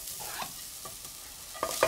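Chopped greens are tossed into a frying pan, giving a soft, brief sizzle and stir, with a couple of sharper clinks of utensil on pan near the end.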